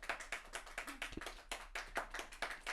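Hands clap at an in-studio event, a small group or a few people beating out fairly even, distinct claps at a moderate pace, close and crisp, with no speech over them.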